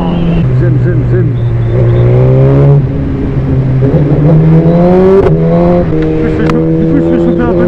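A tuned 2020 Suzuki GSX-R 1000 R, remapped to 212 hp, rides steadily while warming its tyres, its engine a loud, continuous drone with small shifts in pitch and a few louder surges along the way.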